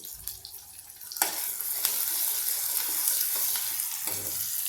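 Onion and tomato frying in oil for a spicy Vidarbha-style green chili curry, a steady bright sizzle broken by a few sharper stirring scrapes, close and fairly loud with no talking.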